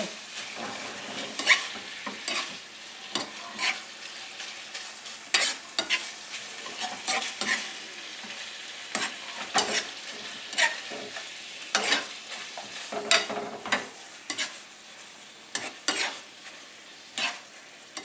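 A lamb mixture frying in a pan is stirred with a utensil, giving repeated sharp scraping clacks at an uneven rhythm over a soft, steady sizzle close by, with no talking.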